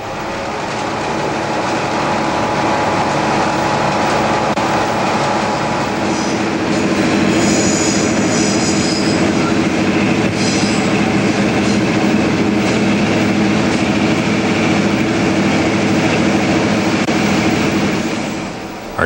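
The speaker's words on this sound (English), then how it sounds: "Our train is now traversing the Avalon Peninsula" A Newfoundland Railway train with 875-horsepower locomotives on six-wheel trucks rolls across the Avalon Peninsula near Placentia Junction, giving a loud, steady rumble of wheels and cars with faint squeals and clicks throughout.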